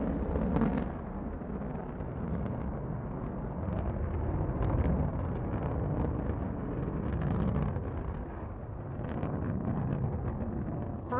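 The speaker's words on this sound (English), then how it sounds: "Beautiful liftoff from our launch site 1 in West Texas." Blue Origin New Shepard NS-15 rocket lifting off from Launch Site One in West Texas: a steady, heavy broadband roar that fills the whole clip, crackling and rumbling with slight swells and no voices.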